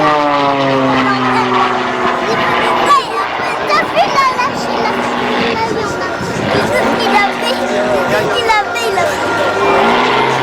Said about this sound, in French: Cet avion, il appartient à l'équipe de voltige de l'armée de l'air et de l'espace.